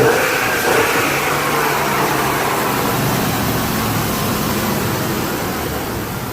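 A Dodge Durango engine with its stock intake runs close by, giving a steady, loud mechanical drone with mild revving and broad airy noise and no speech over it.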